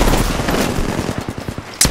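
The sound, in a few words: gunfire in video game Apex Legends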